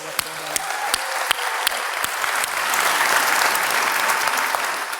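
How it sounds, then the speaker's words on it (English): At a small-business tech event, an audience claps for Innovate Alabama, a dense, close burst of applause with sharp individual claps that swells and holds steady, no talking. "Can we just give a round of applause for Innovate Alabama and all the work"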